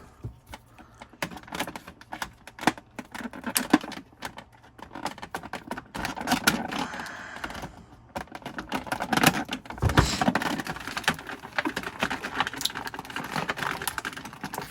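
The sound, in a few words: cutting packaging ties off an action figure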